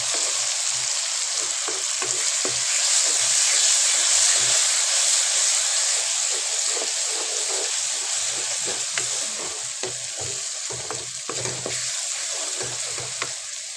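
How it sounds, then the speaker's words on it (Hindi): Garlic-ginger paste frying with onions in hot oil for a mutton and drumstick curry, a steady close sizzle and hiss with soft scraping stir strokes throughout, no voices. "अब हम इसके अंदर ये लहसुन अदरक का पेस्ट डाल देते हैं और इसको भी अच्छे से मिक्स कर लेंगे"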